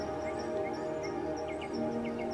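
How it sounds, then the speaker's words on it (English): Occasional birds chirp near a lake beside a temple in Karnataka, giving a few faint, brief tweets over quiet, calm outdoor ambience. "No noises were there except occasional chirping of birds."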